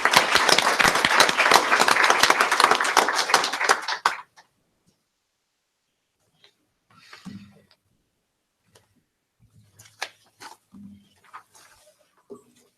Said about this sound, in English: So great round of applause to them for taking the time to do that.